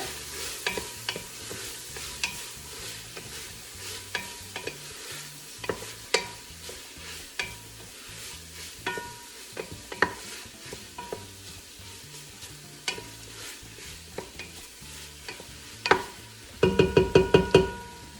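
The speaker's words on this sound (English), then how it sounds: "Now what we'll do is mix it all together." A tortilla-less soup mixture is stirred and fried in a pan for a long stretch, with steady sizzling under repeated spoon scrapes and knocks and a quick burst of clatter near the end.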